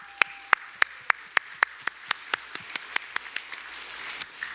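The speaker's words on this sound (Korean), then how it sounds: "한번 박수 한번 치겠습니다." A handful of hands clapping in slow, evenly spaced strokes during a Sunday church worship service, about fifteen crisp claps in steady rhythm, slightly faint and roomy, with no speech over them.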